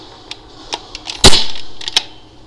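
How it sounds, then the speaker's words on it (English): A modified Nerf Mega missile blaster dry fires with one sharp, loud mechanical snap and a short rushing release, set among several faint plastic clicks and ticks before and after, close up with no talking. "And here is a dry fire sound test."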